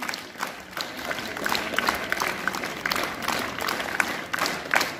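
A group of schoolchildren claps together in rhythm, fairly soft, with the sharper beats of individual hands rising above a steady mass of clapping.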